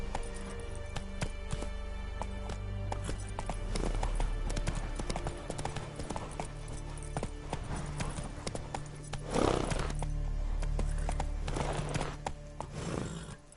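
Horse hooves gallop in The Witcher 3, a steady rapid clip-clop close up with occasional whinnies over game ambience, briefly under a rider's short spoken commands.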